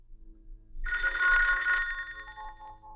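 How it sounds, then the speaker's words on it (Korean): A telephone rings in a Korean film scene, a loud electronic bell tone starting abruptly near the start and sounding steadily before fading slightly toward the end, alone with no talk. "곧이어 옷가게를 운영 중인 아내 옷금의 호출"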